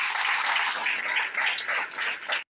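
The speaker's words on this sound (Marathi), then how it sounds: "आपण जोरात टाळ्या वाजवून प्रभू येशूला धन्यवाद देऊया" A congregation at a prayer gathering claps loudly and continuously, a dense wash of many hands that rises and dips briefly before cutting off.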